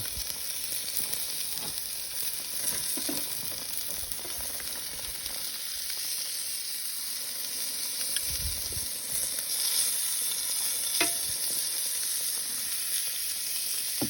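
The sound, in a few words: picanha beef sizzling on grill after being flipped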